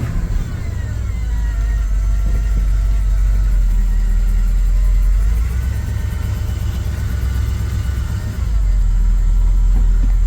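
A 1986 Ford F250 pickup truck engine runs steadily at a low idle, a continuous rumble close by with a slight rise in revs partway through.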